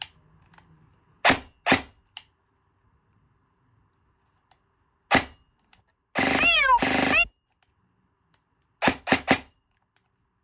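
Short bursts of rapid mechanical clicking shots from an airsoft gun fitted with a Jefftron Leviathan V2 optical unit, a few separate volleys with one longer full-auto burst, close and sharp against silence.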